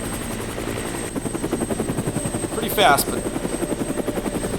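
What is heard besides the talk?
helicopter flying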